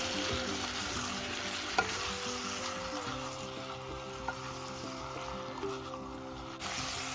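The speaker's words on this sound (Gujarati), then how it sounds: "જો મેં એમાં થોડો છંટકાવ કર્યો પાણીનો, ને પછી છે ને મિક્સ કરી લેવાનું આવી રીતના" Eggplant curry fries in a pan, then is sprinkled with water and stirred, giving a continuous soft sizzle with scraping stir strokes and a few small clinks, no voices on top.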